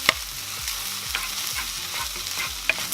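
One beaten egg is stirred and fried into pork fried rice in a hot pan, a bright continuous sizzle broken by regular scraping strokes of a spatula, close and fairly loud with no voices.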